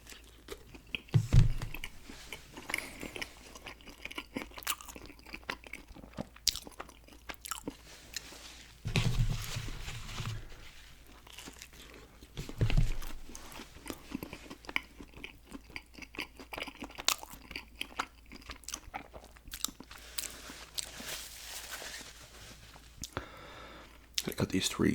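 Close-up chewing and crunching of DiGiorno stuffed-crust pizza, soft repeated bites and mouth sounds scattered through a long stretch, with a quiet voice talking in between.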